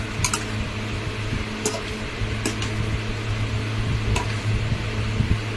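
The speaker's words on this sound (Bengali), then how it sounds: "এবার আমি সেদ্ধ করা এঁচড়গুলো দিয়ে দিলাম। ভালো করে নিয়ে আবার ভালো করে নেড়ে নেবো।" Boiled green jackfruit is turned over in a hot pan, with soft squishing and a low sizzle broken by a few sharp spatula scrapes and clicks against the metal. Nobody speaks.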